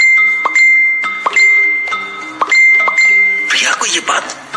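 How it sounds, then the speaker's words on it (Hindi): A phone notification bell chimes several times in a row, bright repeated dings ringing out clearly before a burst of brighter noise at the end. "उसके फोन पर लगातार 4-5 बार नोटिफिकेशन वाली घंटी बजी।"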